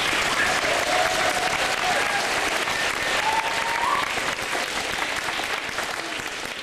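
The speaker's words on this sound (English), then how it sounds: "Could everybody stand up and give them a round of applause?" Sustained applause from a standing audience of walkers' supporters at a community wish event in Wetaskiwin, steady dense clapping throughout with a faint whistle-like tone over it, tapering slightly near the end.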